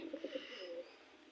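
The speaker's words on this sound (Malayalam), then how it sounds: "ഇതിപ്പോ ഒരു ആൺപ്രാവാണ്. ഒരു ആൺപ്രാവാണിത്." Male pigeon cooing softly nearby, a few quick throaty pulses followed by a longer drawn-out coo, faint and quiet.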